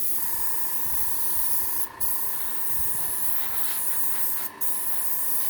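An airbrush driven by an air compressor set to 20 psi hisses in a steady, continuous spray, broken by two brief pauses while alcohol ink is applied.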